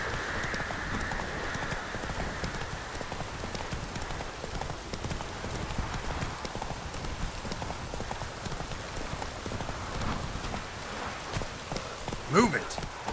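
Horse hooves clip-clop in a steady walking rhythm in The Witcher 3: Wild Hunt, fairly faint under ambient game sound and occasional voice.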